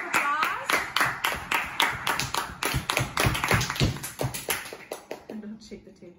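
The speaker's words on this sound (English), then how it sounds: "Everyone, round of applause." A small group claps for a child who has just shown her drawings at a kids' talent show. The claps come close and distinct in an uneven rhythm, then thin out and stop, with faint talking underneath.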